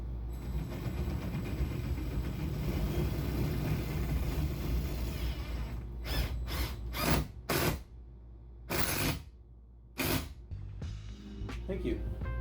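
A power drill drives a screw into a wall while a black pipe bookshelf is mounted: a steady grinding whir runs for several seconds, then several short stop-start bursts follow, close up, with people talking over it.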